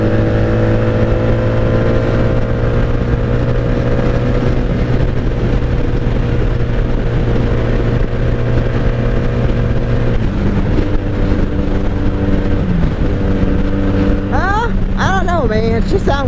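A 1997 Honda Magna VF750C motorcycle cruises on the highway, its V-four engine droning steadily and loud with strong harmonic hum and wind rush, shifting pitch near the end as a voice briefly cuts in.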